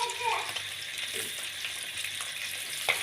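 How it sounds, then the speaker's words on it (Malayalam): River fish fries in hot oil as curry leaves are added, giving a dense, continuous close sizzle with a few brief crackles and scrapes and no voice over it. "അറ്റുമീൻ നല്ലവണ്ണം വെന്ത് പാകമായിട്ടുണ്ട് നമുക്കിതിനകത്തേക്ക് കുറച്ച് കറിവേപ്പില കൂടി ചേർത്ത് കൊടുക്കാം"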